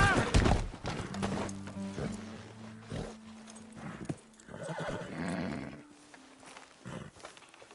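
Horse in Red Dead Redemption 2 galloping and neighing, with irregular hoof clip-clops, a loud whinny near the start and rustling movement, while a voice speaks faintly between sounds.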